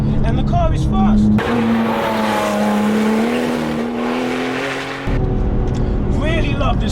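A 575 bhp Porsche 911 996 Turbo X50 is driven hard through canyon corners, its engine droning and rising in pitch under load with tire noise, loud and close, while a driver talks over it.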